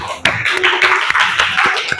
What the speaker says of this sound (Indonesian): Oke, tepuk tangan untuk kita semua dulu.